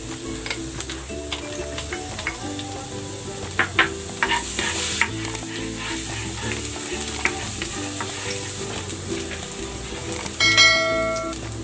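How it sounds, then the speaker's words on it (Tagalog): Garlic sautés in cooking oil in a pan with a steady, close sizzle and frying crackle, joined by light ticking and stirring clatter throughout. "Igisa ko na itong bawang."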